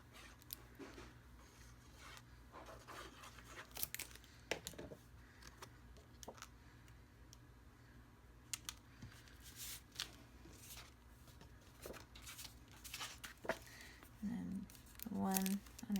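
Patterned papers glued down by hand for a Haunted Mansion paper craft project, with soft rustling, crinkling and pressing handling noises throughout and a speaking voice between them.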